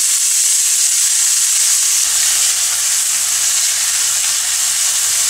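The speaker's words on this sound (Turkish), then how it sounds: "Tavukların kızartıldığı yağ, soğanı dökelim." Onions hit hot oil left from frying chicken with a loud, steady hiss and sizzle, and a faint low stirring rumble joins partway through.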